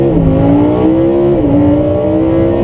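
A Lamborghini Huracan engine pulls hard and loud, its note rising steadily through the revs with a brief dip at a gear change before climbing again, with no voices.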